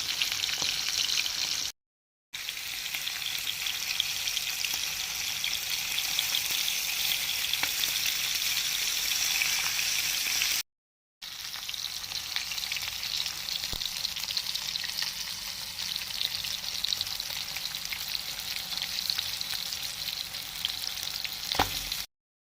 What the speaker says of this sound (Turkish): Evet balıklarımızı güzel bir şekilde çeviriyoruz.